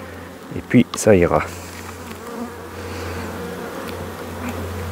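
Honeybees buzz in a dense, steady drone around an open hive during a spring colony split, with a queen present; someone speaks briefly near the start over a few louder close handling noises, then the hum continues alone.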